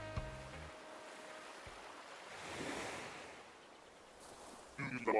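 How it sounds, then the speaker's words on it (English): Ocean waves wash ashore in wind, soft and distant, swelling once into a broader surge before easing back, with a faint sound near the end. "the waves breaking, as the wind chases them ashore"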